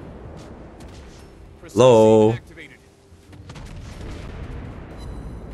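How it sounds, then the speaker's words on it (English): A naval battle in a warship video game, with a Greek cruiser in play, brings one short loud blast from an enemy warship's main guns, a booming burst of under a second. Game ambience and a brief spoken word surround it. "He's just fired both of his main guns."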